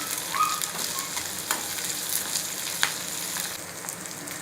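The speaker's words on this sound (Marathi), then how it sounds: "आता शिमला मिरच कापलेली आपण घालूया ती पण एक सेट एक मिनिट आपण परतून घेऊया" Onion and chopped capsicum for soya chilli sauté in a pan with a steady close sizzle and frying crackle, with occasional stirring scrapes and clicks throughout.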